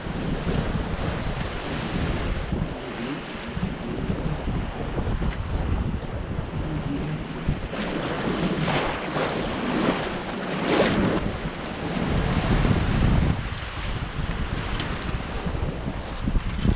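A sailboat motors at sea under a steady engine in about seven knots of wind after leaving Corsica heading south. Constant wind roar and washing waves fill the whole stretch, with gusts swelling midway.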